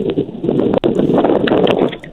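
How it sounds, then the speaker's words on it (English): Wind gusting on a beach in Destin, Florida, heard as steady broadband rushing and buffeting through a phone line, with one brief dropout partway through and no talking. "It's a little windy there on the beach in Destin, Florida."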